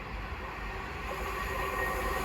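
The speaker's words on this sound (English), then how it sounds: "the next train to pass by, which I'm sure you saw at the end of the last clip, is some Great Northern Class 387s from London King's Cross to Ely" Great Northern Class 387 electric trains pass at Hitchin on the East Coast Main Line, a steady, loud, close rumble and rushing roar that builds slightly and continues without a break.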